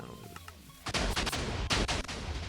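Cannon blasts in Minecraft, a rapid cluster of loud booming explosions that crackle over each other for a moment after a brief quiet click.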